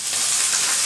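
Five long-sliced big onions frying in oil in a pan while being sautéed for potato masala, a loud steady broadband sizzle close up with no speech.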